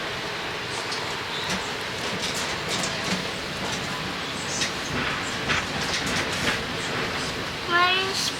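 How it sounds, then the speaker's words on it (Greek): Tram at a tram stop in Vienna, a steady rolling rumble with rising metallic wheel squeal near the end, heard under city ambience and some talk. "Περιμένουμε τώρα στη στάση του τραμ."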